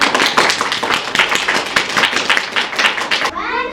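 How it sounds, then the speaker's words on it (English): Schoolchildren in a class of about eight-year-olds clap together in a loud, dense burst of applause that stops abruptly near the end. "One final round of applause."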